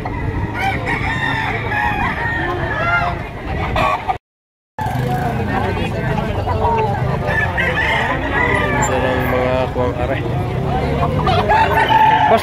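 Chickens and roosters at a market in Lipa, Batangas cluck and crow repeatedly around a busy crowd, with people talking in the background and a brief dropout partway through.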